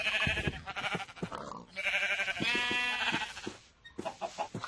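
Farm animal calls from the game Minecraft, with bleating cries and clucking at close range, repeated over several seconds against rhythmic game sounds.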